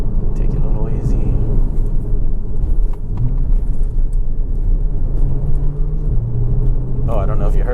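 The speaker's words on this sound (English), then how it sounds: "the transmission gave it a nice little downshift there for me" A Porsche 981 Cayman S engine drones steadily from inside the cabin as the transmission downshifts on a narrow road with a blind corner, its pitch rising slightly with the shift under constant road rumble.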